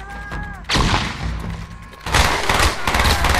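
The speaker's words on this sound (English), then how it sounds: "Flashbang!" A flashbang grenade goes off in Call of Duty Black Ops, landing as a sharp, loud bang with a second heavy burst shortly after, mixed with gunfire clatter and faint voices.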